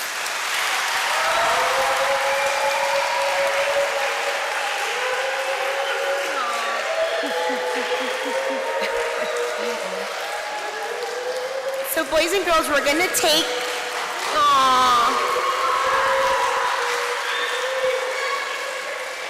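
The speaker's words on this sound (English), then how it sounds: "Let's give a round of applause" Students in grades 5-8 give a round of applause in a classroom, sustained clapping with chatter and voices, then someone speaks to the class over fading claps.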